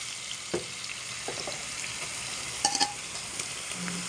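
Marinated chicken frying in a pan for a home-style chicken curry, a steady loud hiss of sizzling oil with occasional stirring scrapes and clinks, and no talking.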